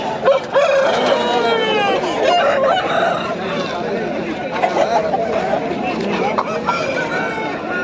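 A rooster crows amid the busy noise of a pet market in Pileru, with calls rising over constant crowd chatter, clucking fowl and people talking close by.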